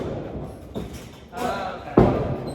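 During wrestling practice, a wrestler is shot off into the ring ropes, giving a few dull thuds and rope shakes with one heavy, sharp impact near the end, close and fairly loud, with no talk over it.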